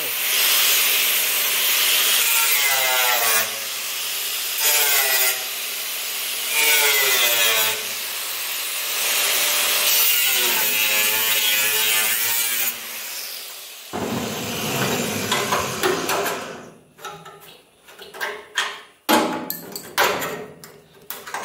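A section of steel truck bed floor panel is cut away with a power tool, first in several long, loud, grinding bursts broken by short pauses, then in choppier, irregular cuts and clanks near the end.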